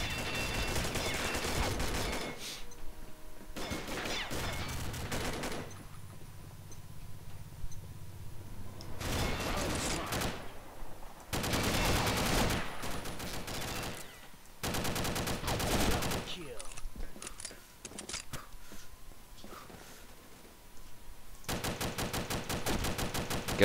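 Dual submachine guns firing fully automatic in Combat Arms, loud bursts of rapid fire alternating with short pauses and quieter stretches over twenty-odd seconds.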